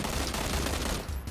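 Rapid gunfire rattles continuously in a first-person shooter running on an old GTX 650 Ti Boost budget graphics card, a dense, loud burst of shots filling the whole moment with no one speaking.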